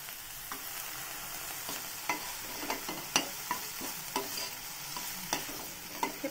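Capsicum fries in oil in a pan while a spatula stirs it. Soft, steady sizzling is broken by regular sharp scrapes and taps about every half second, close by and fairly quiet.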